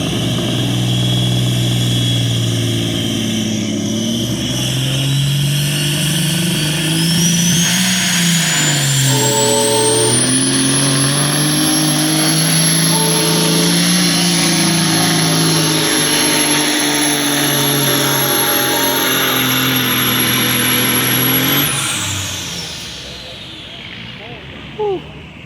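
A pulling tractor at the 2021 Pioneer Power tractor pull roars loud and close, its engine whine climbing steadily in pitch for about twenty seconds before it cuts off and fades.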